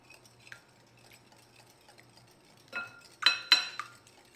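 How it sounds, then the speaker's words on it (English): A custard mixture being whisked slowly in a bowl for a piña colada crème brûlée: faint clinks and taps of the whisk against the bowl, building to a few louder scrapes near the end, with no talk. "I'm going to get to whisking those"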